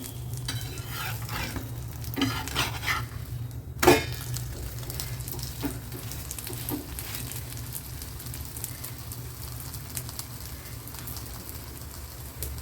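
Wheat adai sizzling and frying on a hot pan at medium heat, a steady crackle with scraping and a clatter as it is turned over.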